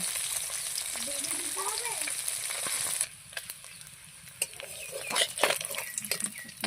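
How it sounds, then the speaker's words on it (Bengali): Fish frying in oil in a pan, a loud continuous sizzle that drops off abruptly partway through, followed by scattered crackles, pops and spatters as the frying resumes and builds again. "মাছ ভাজা হয়ে গেছে।"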